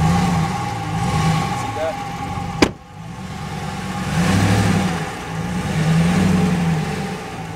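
A 2017 Ram Rebel pickup stuck off-road revs its engine in slow, swelling surges, loud and close, broken once by a sharp click.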